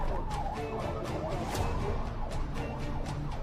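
A police siren wails steadily throughout, its pitch sweeping up and down in a continuous cycle, loud and close with traffic noise underneath.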